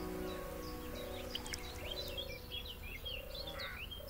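Yellow-bellied toads call at a refuge site in Pauillac, sending soft, repeated tonal notes in short spaced bouts, with birds chirping in the background throughout.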